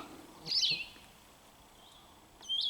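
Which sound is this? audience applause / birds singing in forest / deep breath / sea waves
birds singing in forest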